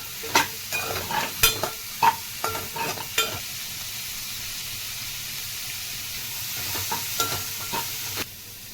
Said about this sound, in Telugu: క్యాప్సికమ్ ఫ్రై చేసుకుందాం ఈ క్యాప్సికమ్ పచ్చివాసన పోయే వరకు వేపుకుందాం